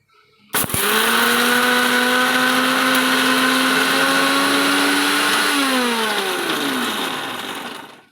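An electric mixie grinds dried chilli pickle with a loud whirring motor. It starts abruptly, holds a steady high drone for several seconds, then slows and winds down to silence, with no talking.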